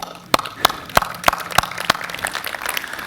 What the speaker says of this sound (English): please applaud for the cool kids of the 80s.